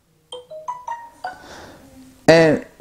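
A phone ringtone plays a short rising sequence of bright electronic chimes, several quick tones in a row, fairly loud and close, followed by a brief burst of a voice.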